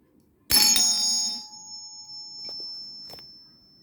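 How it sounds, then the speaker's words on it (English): A DIY electric bell struck once with a bright metallic ring that decays with a long sustained tone, followed by a couple of faint clicks and a light tap. "An electric bell is based upon the principle of electromagnets."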